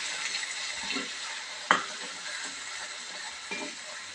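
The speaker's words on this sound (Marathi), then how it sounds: "आता यामध्ये आपण मिक्सरमध्ये वाटलेलं वाटण बारीक असं वाटलं होतं ते यामध्ये घालून घेऊ, आणि छान असं याला हलवून घेऊया" A ground spice paste from the mixer sizzles in a hot pan while being stirred, a steady frying hiss with soft scraping strokes and one sharp clink of the spoon near the middle, close and continuous.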